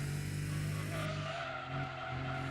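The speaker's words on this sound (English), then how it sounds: "Oh, the Supra sound really is awful." Toyota Supra engine in the racing game Gran Turismo 2, a loud continuous engine drone with tire squeal and skidding running steadily through the short stretch, no talking.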